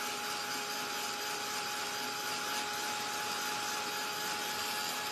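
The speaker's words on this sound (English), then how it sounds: "now I'm going to hit it with the dryer" Steady, loud broadband whoosh of a hand-held dryer blowing air onto a freshly stenciled spring bunny sign painted on a 2x6 pine board, continuous and unchanging throughout with no talking.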